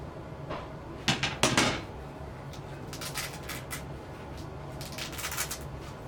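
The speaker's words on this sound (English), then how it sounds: "So, we're going to open up my bag." A ball hockey gear bag being opened: a few sharp zipper or fabric rustles and clatters close by, followed by lighter scattered rummaging sounds in a quiet room.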